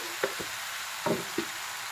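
Prawns frying in a pan with turmeric powder for a Kerala chemmeen theeyal, a steady soft sizzle with a few brief stirring clinks and scrapes, no talking.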